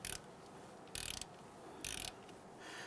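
Ratchet torquing brake caliper bolts on a 2011-2019 Ford Explorer during a rear brake job: three short bursts of rapid clicking, each about a third of a second, evenly spaced and close, with quiet between.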